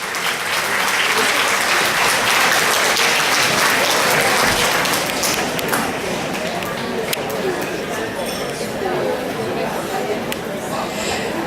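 Loud, sustained applause from a crowd at a seniors' meal with speeches in Mantes-la-Jolie, dense and continuous with murmured chatter mixed in, easing slightly toward the end.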